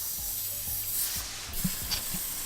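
An aerosol can of PB Blaster rust penetrant hisses in a steady, continuous spray at close range onto stubborn bolts on a Subaru Impreza 2.5RS, with a few faint knocks underneath and no talking.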